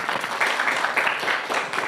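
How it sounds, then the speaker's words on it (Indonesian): Short burst of applause from a small group, brisk overlapping claps at moderate volume lasting under two seconds. "beri tepuk tangan"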